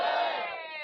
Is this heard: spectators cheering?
yes